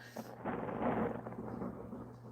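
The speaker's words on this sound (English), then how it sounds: "That's thunder." Rolling thunder rumbles up after a quiet start, a broad low roar that swells and lingers steadily at moderate volume, heard alone with no talk.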